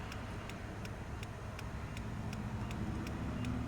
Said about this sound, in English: This is a pretty loud road noise type of car, tire combo.